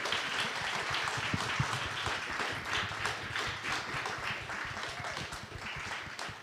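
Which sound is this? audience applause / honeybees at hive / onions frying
audience applause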